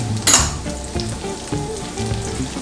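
Onion and scallion sizzle in a hot pan for Jamaican steamed butter fish, a steady close frying hiss broken by periodic stirring knocks, with no talk.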